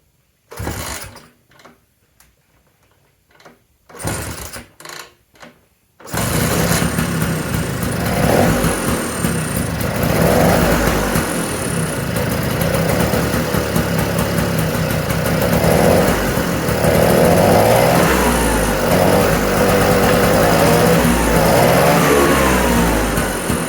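A 1979 Vespa P200E scooter with a rebuilt, previously seized engine makes a few short sputtering cranking attempts, then catches and runs loudly and steadily up close, its revs rising and falling without settling into an idle.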